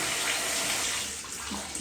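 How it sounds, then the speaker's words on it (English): Water pours steadily from two Aquadance shower heads running together, a continuous close hiss and splash with no pauses. "it's both shower heads running together"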